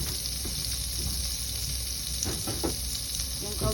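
Sisig sizzles in a pan with butter, a steady close frying hiss with a few soft stirring scrapes, no talk.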